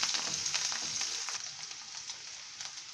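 Onions and a sprig of curry leaves sizzle steadily in hot oil for a Tamil side dish, a close, bright frying hiss that eases slightly midway, with no talk over it.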